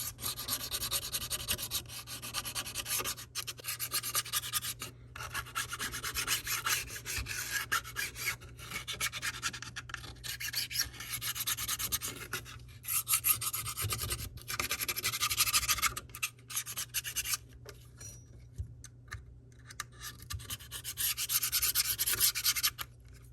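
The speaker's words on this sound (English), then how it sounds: "Grab my flat metal tool and literally just scrape this frame" A flat metal tool scraping along an iPhone 7 frame to clear old adhesive, producing continuous close raspy scratching strokes with short gaps, over a faint steady hum.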